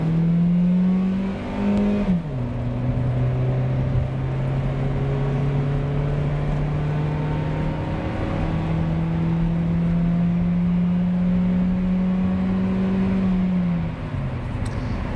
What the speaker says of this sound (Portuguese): vamos sentir a saúde dele aí, ó, numa arrancadinha.